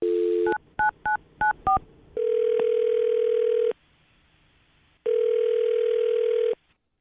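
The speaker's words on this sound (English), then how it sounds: "I'm dialing this phone number right now" Six quick dialing tones beeping in a fast run, then a long steady ringback tone, a pause of silence, and a second long ring. No talking.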